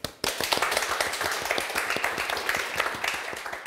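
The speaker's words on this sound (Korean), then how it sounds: "자, 그럼 박수로 듣겠습니다" A live audience at a Korean talk show on happiness and learning bursts into steady, dense clapping that starts abruptly and holds loud and even for several seconds, with no talk over it.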